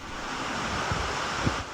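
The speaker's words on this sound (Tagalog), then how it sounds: "Malakas ang hangin at ulan sa Burgos at Gamu." Steady roaring typhoon wind with a rushing, hissing wash of rain, continuous and loud, with occasional low buffeting gusts.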